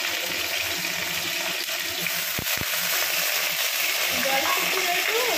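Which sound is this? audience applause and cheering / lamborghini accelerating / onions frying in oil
onions frying in oil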